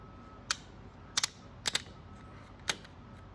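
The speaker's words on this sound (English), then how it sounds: "So you get in here with the big ratcheting pliers, the C-clip pliers, and squeeze them together, and that E-clip will come right out." Big ratcheting C-clip pliers squeeze a C-clip off a sprag clutch, giving a handful of sharp metallic ratchet clicks, some in quick pairs, spaced apart with quiet in between.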